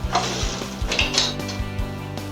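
A wooden spoon being picked up among pots and pans while cooking steak Gorgonzola Alfredo, with repeated clinks and clatters of metal cookware over a steady low kitchen hum, close by and without talk.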